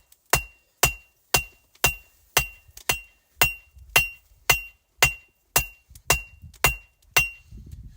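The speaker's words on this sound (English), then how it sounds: "now I can hammer down to that mark" A blacksmith hammers a knife tang while forging, with about fourteen sharp, ringing metallic strikes at a steady, brisk rhythm. Each blow rings out clearly and up close, and there are no voices.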